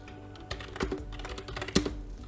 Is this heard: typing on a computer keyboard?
yes